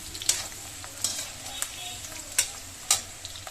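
Capsicum fries in oil in a pan, with a steady low sizzle and a few sharp spattering crackles and spoon clicks at irregular intervals.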